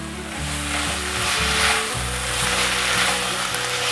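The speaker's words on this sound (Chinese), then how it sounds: "把调味料炒匀。" A cabbage vegetable filling sizzles steadily in a pan as it is stir-fried with vegetarian oyster sauce, white pepper, rose salt and sugar, with constant close frying hiss and light stirring scrapes.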